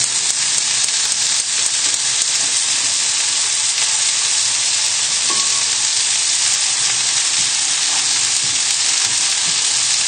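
Lamb pieces frying in a pan, giving a steady, loud sizzle and crackle throughout with occasional soft stirring sounds, no voices.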